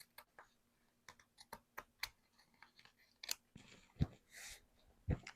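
Scissors snip through an upholstery fabric sample in a series of short, separate crisp cuts, close and fairly quiet, with a few louder crunchy snips near the end.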